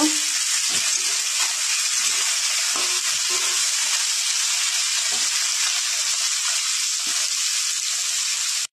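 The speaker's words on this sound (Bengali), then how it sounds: "দিয়ে দেবো সিম, নাড়াচাড়া করে নেব।" Beans frying in a pan for a Bengali vegetable dish, a loud steady sizzle with soft scrapes and knocks of stirring at irregular intervals.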